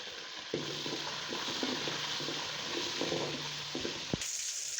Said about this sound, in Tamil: அதோட கருவேப்பிலை சேர்த்துட்டு நல்லா வதக்கி விட்டுக்கலாம்